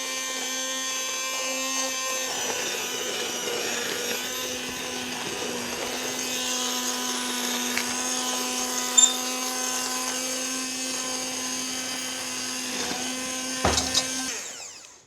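A stick blender whirs steadily in a pot of soup kept on the heat, a continuous close motor drone with a small clunk near the end as it stops.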